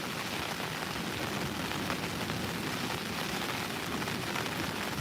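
Wind and rain at sea off Hayling Island during a shore fishing session: a steady, dense, hissing wash of rain and gusting wind that fills the whole clip at an even level, with no talking.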